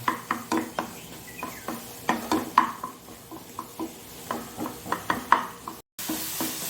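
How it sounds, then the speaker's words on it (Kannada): Nendra banana pieces frying in a little ghee in a pan, a soft sizzle beneath a series of sharp, close taps and scrapes from a spatula, repeating irregularly, then a short break before the sizzle resumes. "ಹಾಕಿ ಸ್ವಲ್ಪ ಇದನ್ನು ಫ್ರೈ ಮಾಡಿಕೊಳ್ಳೋಣ."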